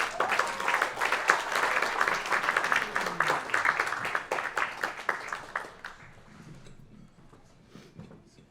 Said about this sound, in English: Please give a nice warm round of applause for these actors.